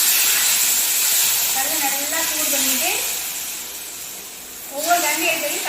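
Rice flour dosa batter hits a hot griddle stone with a steady, close hissing sizzle that swells briefly near the end, while a voice murmurs faintly underneath.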